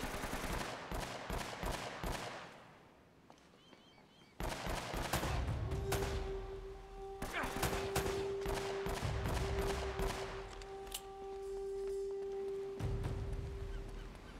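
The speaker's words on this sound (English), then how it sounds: "Who is shooting me?" Gunfire in Uncharted: Drake's Fortune, heard as bursts of sharp cracks in quick rapid volleys, then a lull and more scattered shots over a steady hum, fairly close and loud.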